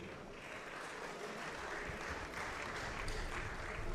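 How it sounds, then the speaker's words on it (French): Applause for two teams at a robot contest, a steady patter of clapping from a crowd in a hall, fairly faint and distant, swelling slightly toward the end of the short stretch. "On peut applaudir bien fort les deux équipes."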